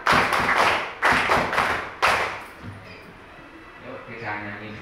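Third-grade schoolchildren in a classroom clap together in short counted bursts, three sharp groups of claps about a second apart, followed by quieter voices and murmuring.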